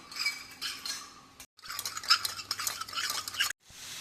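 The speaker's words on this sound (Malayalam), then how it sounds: "ആദ്യം തന്നെ പഞ്ചസാര ഇട്ടിട്ട് കലക്കി വയ്ക്കാം" A spoon stirs sugar into filter coffee, giving bursts of metallic clinking and swirling scrapes with two short pauses, close and fairly quiet.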